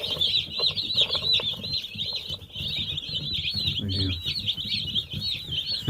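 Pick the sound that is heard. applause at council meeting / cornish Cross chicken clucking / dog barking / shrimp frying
cornish Cross chicken clucking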